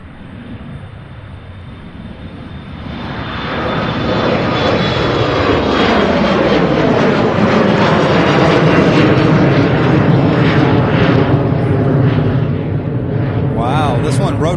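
A jet airliner takes off from Louisville International Airport, its engine roar swelling into a loud, sustained rumble as it rotates close by, with people talking over it.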